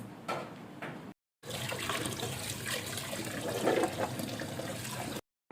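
Dheki shak greens are washed in water for a stir-fry, with running, splashing water from a tap into a sink, steady and close throughout apart from two brief silent gaps.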